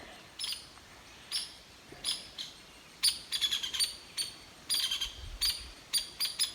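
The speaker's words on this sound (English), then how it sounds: "one of the woodpeckers is just putting up a hell of a row" Woodpecker calling loudly and repeatedly, sharp high chirping notes in irregular bursts and quick clustered runs, fairly near against a quiet outdoor background.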